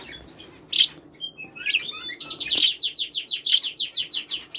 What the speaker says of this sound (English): This is a couple of budgies here